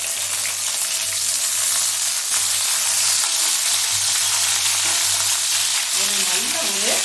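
Green chillies and curry leaves frying in about 50 grams of coconut oil: a loud, dense, unbroken sizzle close at hand, with a faint low hum beneath and a brief squeaky scrape near the end.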